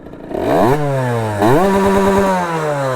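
A warmed-up motorcycle engine with a 75cc MVT kit revs up hard twice, climbing and falling in pitch, then idles with a rough, loud, close-up rumble.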